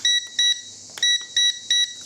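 A quadcopter transmitter gives electronic beeps, close and clear: four even, high-pitched bleeps spaced steadily apart with a short click in the middle, and no talking.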